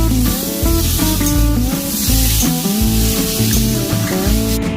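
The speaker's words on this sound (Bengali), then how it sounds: "এবার বেটে রাখা পোস্ত, কাজু, বাদাম, সরষে দিয়ে ভালোভাবে কষিয়ে নেব।" Poppy seed, cashew, nut and mustard paste sautéing in a pan for Bengali shukto, a loud, steady sizzle and spatter running throughout, with tonal background music layered over it.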